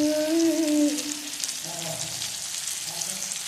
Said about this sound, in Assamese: ধুনীয়াকৈ এইখিনি বিলাহীখিনি ভাজা ভাব দিব লাগিব।